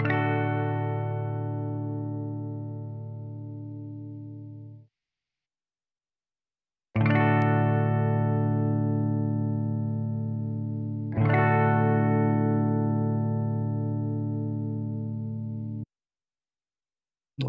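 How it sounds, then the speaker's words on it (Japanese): Clean-toned electric guitar strums the same chord three times, comparing Buzz Feiten against normal tuning; each chord rings out and decays slowly over several seconds, with silent gaps between. "クリーントーンの、バズフェイトンとノーマルチューニングのやつです。"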